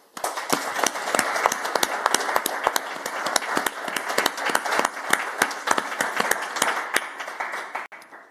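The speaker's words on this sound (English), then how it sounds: "We'll give you a quick round of applause." An audience gives a round of applause at the close of an evening conversation event, with dense, lively clapping sustained for several seconds before tapering off near the end.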